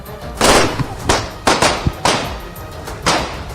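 Gunfire from an automatic Zigana pistol: about five or six sharp, loud bangs at irregular intervals, close by.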